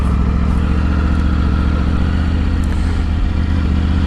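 Motorcycle cruising on a paved road, its engine drone steady and close with constant wind rumble and light clatter throughout, no voices.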